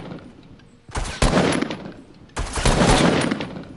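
Bursts of rapid automatic gunfire from the video game Fortnite, two loud sustained volleys separated by a brief lull, close and dense, with no talking over them.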